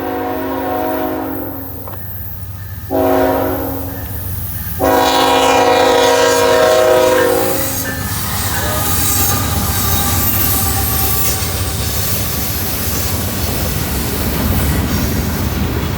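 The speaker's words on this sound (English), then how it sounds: "We got another train coming" A CSX freight train with an oil leak on its lead engine passes close on a super-elevated curve, sounding several loud horn blasts with pauses between them, then a steady rolling rumble of rail cars and wheel noise.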